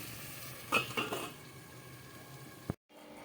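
A lid is placed on a pot of cabbage curry with fish head, making a couple of close metallic clinks over faint kitchen background. A sharp click follows, as the gas is switched off.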